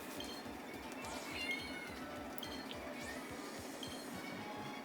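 A pet cat meows indoors, faint and close to the microphone, a few short cries scattered across a few seconds over a low background hum.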